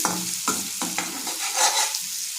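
Onions frying until golden brown for an eel fish curry, a close crackling sizzle broken by a few sharp stirring scrapes, with no voices.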